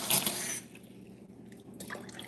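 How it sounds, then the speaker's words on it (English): Water pours briefly and loudly into a pot of homemade vegetable stock for canning, a short splashing rush at the start that gives way to a quiet kitchen with faint trickles. "I'm going to add a little more water to this"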